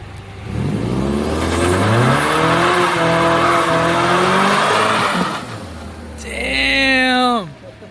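A 500hp Ford Mustang EcoBoost does a burnout, heard from inside the car: a loud, sustained engine roar, then a brief lull and a sharp rising rev with squealing tires near the end.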